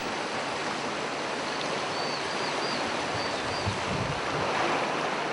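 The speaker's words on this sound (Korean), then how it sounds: "물소리가 만들어내는 경쾌한 음율에 맞추어" Steady rushing water of the Wangsukcheon stream in Namyangju, South Korea, at early dawn, continuous and broad, with a faint bird call near the middle and no voices.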